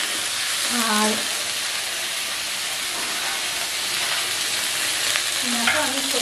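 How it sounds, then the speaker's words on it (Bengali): Cauliflower frying in hot oil with turmeric in a wok, a continuous close sizzle and hiss with a few stirring clatters, while a person speaks briefly at the start and near the end. "তো এবার আমি কপিটাকে একটু ভালো করে ভেজে নেব।"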